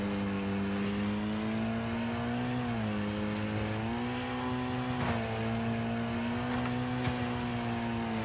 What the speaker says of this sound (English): I definitely saw we were bouncing off the rev limiter there